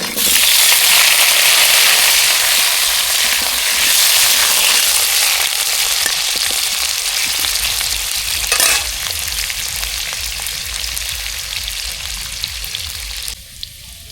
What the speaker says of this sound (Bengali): তেল গরম হয়ে গেছে এবার আলুটা ভেজে নেব